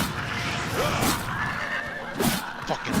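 A horse neighs loudly in the video game Oblivion, a long whinny followed by shorter snorting calls, close and clear over a steady background hum.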